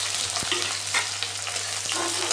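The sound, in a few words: chopped onions frying in hot oil in a pan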